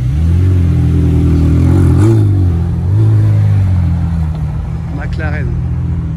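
A McLaren 720S sports car revs loudly and close on Place Vauban, its engine rising and falling in a couple of surges and then settling, while people talk over it.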